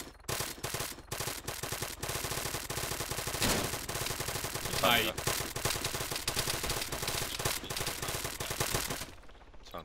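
Dense, continuous rapid video game gunfire aimed at a helicopter crackles loudly throughout, with sharp bursts overlapping and a brief voice exclamation partway through.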